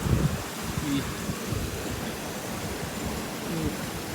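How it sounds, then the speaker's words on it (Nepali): Water runs steadily out of a rock face outdoors, a continuous broadband rushing and splashing that holds at an even level throughout, with faint voices underneath. "यहाँ चाहिँ अब चट्टानबाट पनि पानी निस्केको छ"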